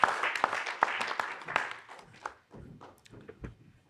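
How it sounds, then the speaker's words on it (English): An audience applauds a panel at a United Nations anniversary event, with loud scattered claps that thin out into a few sparse taps and shuffling footsteps. "let's clap again for our esteemed panel"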